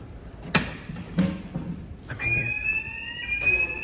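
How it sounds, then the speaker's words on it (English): An electronic alarm tone sounds in a steady high pitch over the last half, after a few thuds and clatters nearby, on an airport walkway. "The alarm's going off."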